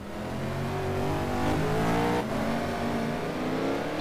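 BMW race car in a GT2 racing game at Spa slowing into the pit lane, a loud steady engine drone with shifting harmonic tones as the revs rise and dip, continuous throughout.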